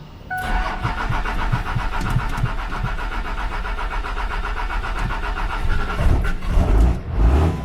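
A Cummins diesel engine idles in a Ford King Ranch truck, a steady close rumbling clatter with an even rhythm that roughens and rises briefly near the end.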